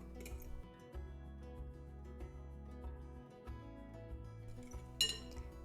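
A spoon stirs yeast and sugar into warm milk in a bowl, giving a few light clinks against the dish over soft, steady background music.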